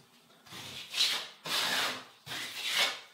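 Excess material is scraped off a Durock cement board seam during a bathroom remodel, in three long, rough rubbing strokes that are close and fairly loud, with no voices.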